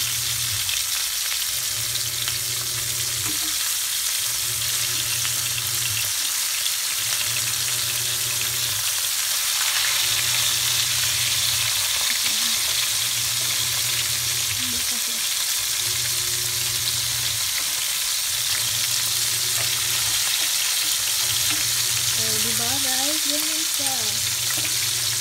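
Fish frying in oil in a pan, giving a loud, constant sizzling hiss close by, with a low mechanical hum pulsing on and off regularly underneath and a few brief squeaks near the end.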